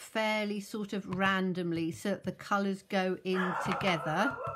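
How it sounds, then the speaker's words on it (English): A small dog barks and yips repeatedly in short bursts close by, its barks overlapping with a woman's steady speech indoors on a hot day. "Excuse my little dog."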